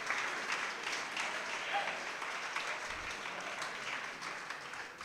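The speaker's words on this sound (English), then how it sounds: "please give them a resounding round of applause" Sustained applause from an audience at the kickoff event for a horror and sci-fi film project in Pittsburgh, a dense, even wash of many hands clapping that fills the whole stretch with a faint voice beneath it.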